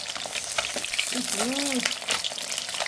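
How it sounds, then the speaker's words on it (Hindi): Boiled eggs frying in very hot oil in a kadhai, a dense continuous sizzle and crackle with spattering pops, close and steady throughout; a brief voice murmurs in the middle. "तो गाइस ये कढ़ाई में डालते ही फ्राई हो गए हैं।"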